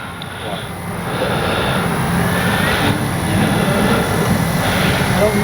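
A Flightline 1200mm F8F-1 Bearcat RC warbird model plane takes off with its electric motor rising to a steady loud whine over wind rush, building through the first second and then holding strong.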